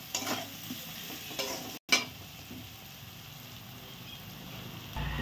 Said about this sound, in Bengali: মশলা দিয়ে ভালো করে নাড়াচাড়া করে নেব।